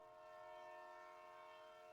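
A passing train gives a steady, sustained tonal hum, like a distant horn drone, holding evenly for about two seconds at low level with no voices.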